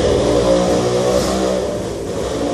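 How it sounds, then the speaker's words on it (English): Motorcycles pass outside, a steady, loud mid-pitched engine drone with a slight swell around the start and no talk over it. "dang motorcycles outside"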